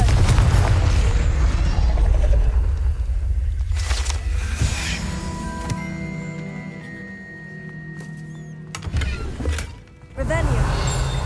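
Confringo fire spell cast in the video game Hogwarts Legacy, a loud booming burst with mechanical creaks, set against ongoing game sounds and soundtrack, with a brief dip then a renewed surge near the end.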